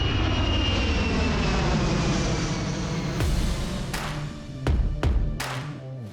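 Air force planes roar with a loud, sustained engine drone, joined toward the end by several sharp bursts of noise.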